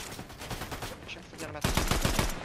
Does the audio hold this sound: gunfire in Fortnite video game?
yes